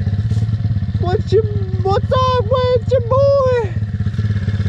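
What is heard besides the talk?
SSR 170TX pit bike engine warming up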